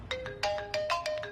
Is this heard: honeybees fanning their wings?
no